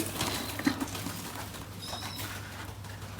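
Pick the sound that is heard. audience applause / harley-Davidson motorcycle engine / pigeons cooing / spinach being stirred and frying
pigeons cooing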